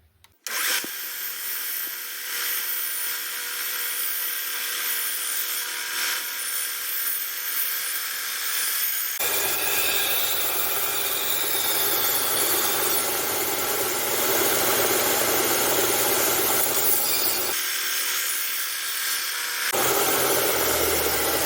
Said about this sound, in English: lay the blade evenly and rock it in that shape of it so that we get the same grind on each side